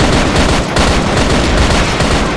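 Rapid, continuous video game gunfire with dense bursts, loud and close, with no talking over it.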